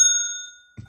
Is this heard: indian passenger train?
no